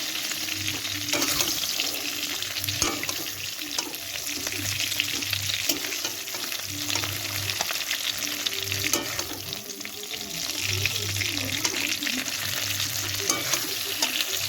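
Hilsa fish heads fry in hot oil with a loud, continuous sizzle and crackle. Slow scraping stirs recur through the steady frying, with no voices.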